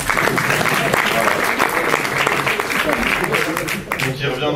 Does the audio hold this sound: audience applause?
yes